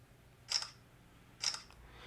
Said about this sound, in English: every time you try to take a photo with your camera, you hear that shutter sound